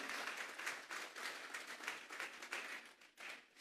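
A church congregation at a Sunday service applauds together, a dense, continuous crowd clapping heard somewhat distantly and fairly faint, rising and falling slightly across a few seconds.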